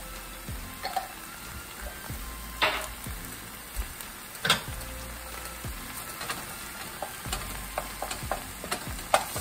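Ground turkey and green beans with minced garlic being sautéed in a pan, with a steady sizzle broken by several sharp scrapes and stirs of the utensil, close up, with no talking.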